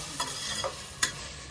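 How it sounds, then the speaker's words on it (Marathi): Peanuts hit hot oil in a pan while khichdi is being made, giving a quiet sizzle with a few brief scraping stir strokes and a sharp clink near the end. "आता टाकते मी शेंगदाणे"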